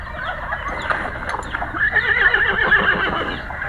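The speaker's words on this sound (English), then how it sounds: "A horse." A horse whinnies in a long, shaky neigh that rises and falls, with a busy farmyard background and faint rustling throughout.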